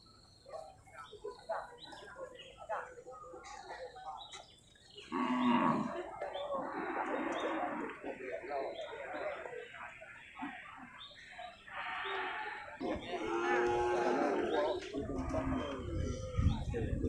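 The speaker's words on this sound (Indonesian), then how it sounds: "Ini juga satu sapi PO nih kan, PO cross, ya Simmental cross, ya jantan semua nih kan." Several loud moos from PO and Simmental cross bulls ring out at an open-air animal market in Geurugok, rising over quieter talk, with chickens faintly in the background.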